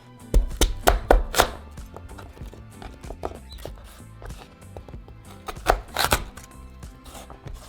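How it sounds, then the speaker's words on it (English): A knife cuts peeled sugar cane into small strips for Mexican Christmas punch, sharp irregular chops against a board, with several loud close strikes at first, softer cuts in the middle and another loud cluster near the end. "now we're just going to cut them into small strips"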